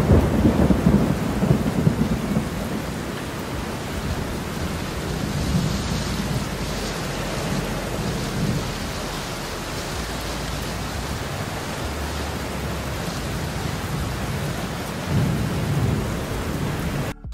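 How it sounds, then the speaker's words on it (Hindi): Heavy rain pours down in Himachal Pradesh, a dense steady hiss of rain on surfaces with low rolling thunder rumbling underneath, swelling at the start and again near the end, with no talking. "अब लगी बहुत तेज वाली बारिश"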